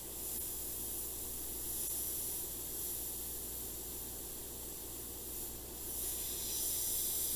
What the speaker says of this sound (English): I can add a little bit of airbrushing to kind of soften that up too